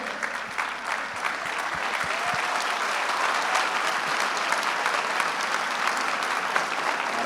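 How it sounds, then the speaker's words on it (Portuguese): A conference audience at a liberty forum gives long, steady applause, a dense wash of many hands that holds for over seven seconds, with a few faint thumps early on. "Levanta aí para todo mundo aplaudir, pô."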